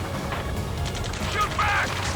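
Gunfire from a firefight in the video game Ace Combat 7 rattles in a dense, continuous burst, loud and close, mixed with mechanical clatter and game effects.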